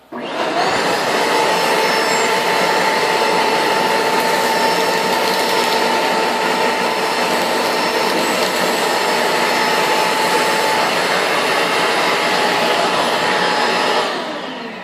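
A shop vac roars loudly and steadily as it sucks up ripped toilet paper and chip crumbs, its motor whine holding constant for the full stretch before winding down at the end.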